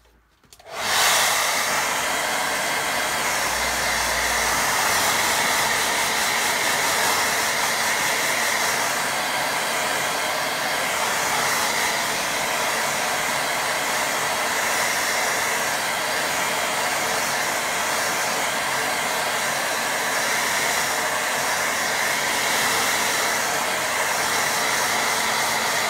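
A hair dryer drying a watercolour painting switches on abruptly and blows in a loud, steady whoosh that holds without pause for nearly half a minute, with no talking over it.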